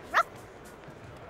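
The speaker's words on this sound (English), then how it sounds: "That little girl has a puppy with her, too." A puppy at a game gives a single quick, high yip, close and short, followed by a quiet background.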